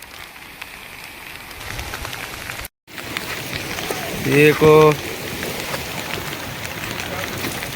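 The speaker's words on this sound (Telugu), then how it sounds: "భయంకరమైన వర్షం అసలు" Steady heavy rain from Cyclone Montha hisses across the whole clip, falling over a village pond, with a brief dropout midway and someone speaking a short word over the downpour.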